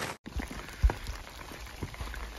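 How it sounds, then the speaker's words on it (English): Steady rain patters on a forest trail during a thru-hike, a soft continuous hiss with a few louder drops landing close by, no one talking. "But even though it's raining"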